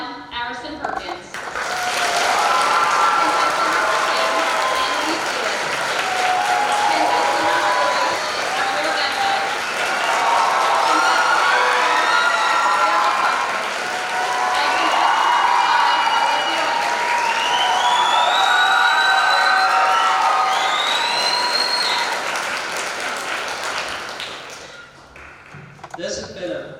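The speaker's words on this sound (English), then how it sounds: "give them a round of applause as they take the stage" Pageant audience applauding as young contestants take the stage, a steady wash of clapping lasting most of the clip, with cheering and an announcer's voice riding over it.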